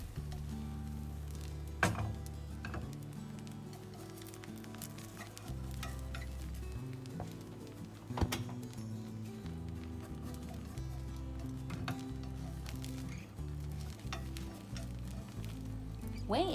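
Thin layer of egg mixture frying in a pan, a soft continuous sizzle with occasional scraping and tapping as the edges are poked loose, fairly quiet and without speech.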